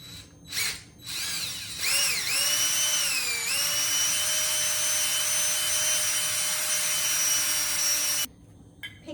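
A power drill with a diamond drill bit whines up to speed after a few short bursts, then holds a steady high-pitched grind into a ceramic teapot before cutting off abruptly.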